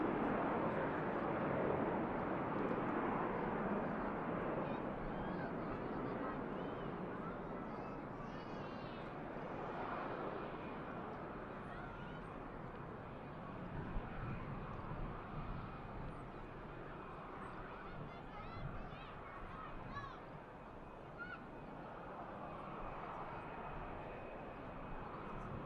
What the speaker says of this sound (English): Turkish on the departure roll